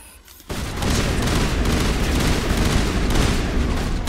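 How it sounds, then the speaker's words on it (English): Sustained rifle fire from Mass Effect bursts in after a half-second lull and continues loud and dense for the rest of the moment, a steady rattling barrage with no talk over it. "I am shooting Liara. I am shooting my own team member."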